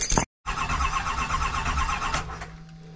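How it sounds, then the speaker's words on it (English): A Duramax diesel truck engine, just back together after fuel injector line repairs, cranks with a rapid rhythmic starter chug for about two seconds after a brief gap, then fades without clearly catching, close and loud. "Startup will take a few cranks because we got to get the fluid, well, the fuel through the line again"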